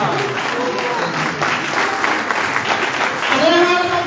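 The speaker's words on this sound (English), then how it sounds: "Another round of applause!" Applause from the crowd at the declaration ceremony of a new Sierra Leone Bar Association president, a loud, dense clapping wash with voices and cheers mixed in and a rising call near the end.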